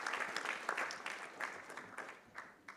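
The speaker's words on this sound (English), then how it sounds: "I think he really does deserve a louder round of applause," A conference audience at a construction law event applauds an award recipient with continuous, fairly soft clapping that sounds somewhat distant and holds steady across the moment.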